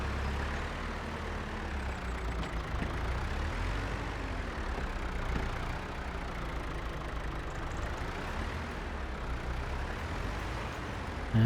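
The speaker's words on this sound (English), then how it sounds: "This tractor's quite rapid though." A tractor engine in the Farming Simulator 25 video game drones steadily throughout, a continuous low, rumbling run with no talking.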